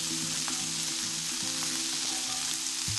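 Garlic and cherry tomatoes sizzle in hot oil in a pan, with a steady loud hiss and occasional stirring clinks and scrapes, no voices.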